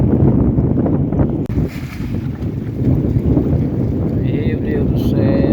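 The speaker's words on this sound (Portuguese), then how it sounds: "O vento tá aí, menino." Strong wind on a fishing boat at sea, roaring steadily and buffeting the microphone with loud rumbling gusts, while faint voices talk underneath.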